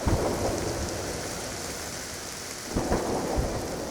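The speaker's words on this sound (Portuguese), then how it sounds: "uma tempestade terrível, com trovões e relâmpagos, e a chuva caindo muito forte" Heavy rain pours steadily during a terrible thunderstorm, a dense continuous hiss with a deep low rumble of thunder swelling near the end, no voices.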